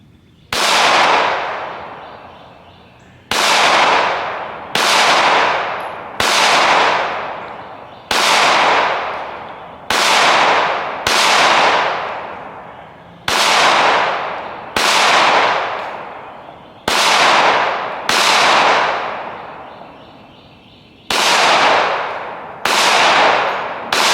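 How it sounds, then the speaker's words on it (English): Pistol shots fired one at a time at a target 15 yards away on an outdoor range, about fourteen loud, sharp cracks spaced one to two seconds apart, each trailing a brief echo, with no talking. "I'm gonna shoot for the top left, 15 yards, top left of the target"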